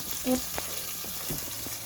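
Sliced onions frying in a pot with fish and coarse salt, a faint soft sizzle with a few light stirring knocks, quiet and close, under a low background hum.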